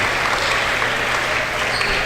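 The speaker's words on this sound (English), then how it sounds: "DeAndre Cutliff, he gets his ovation from this crowd." Sustained crowd applause and cheering fills a gym during a senior night college men's basketball game between Tabor and York, loud and steady throughout with no gaps.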